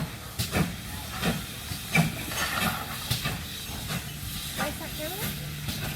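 A steam train at a station platform gives a steady hiss in the background with a few sharp clanks and bumps, and people talk faintly nearby.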